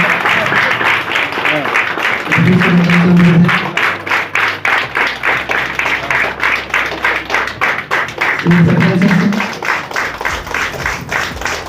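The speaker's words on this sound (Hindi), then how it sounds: "तालियों के गड़गड़ाहट के साथ तमाम" An audience at a World Water Day workshop in Palamu district bursts into sustained applause, with dense, rapid clapping continuing under someone speaking Hindi over a loudspeaker.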